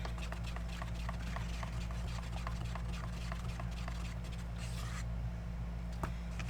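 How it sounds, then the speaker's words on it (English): A stick stirs Pourage Posse pour paint mixed with glue, giving soft, steady scraping and dabbing strokes in an even rhythm. A low hum runs underneath, and one sharper knock comes near the end. "So we're going to stir it one more time."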